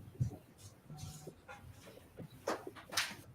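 A dog indoors gives a few thin, high whimpers and soft whines between brief scattered household noises and faint speech nearby.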